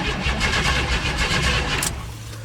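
An old Chevy OBS truck engine cranks with a rapid, even pulsing rhythm, loud and close, before a brief sharp click near the end.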